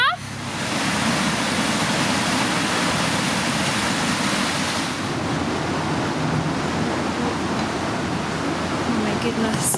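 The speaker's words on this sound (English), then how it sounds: "We just let a little bit of water in." Steady broadband rush of water pouring into a canal lock on the Northampton Arm, loud and continuous throughout with no pauses, like a sluice filling a lock chamber.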